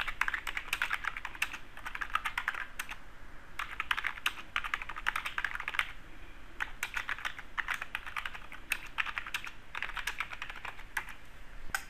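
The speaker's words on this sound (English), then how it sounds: "start typing in any notes" Steady, rapid keyboard typing up close, with brief pauses between bursts of keystrokes.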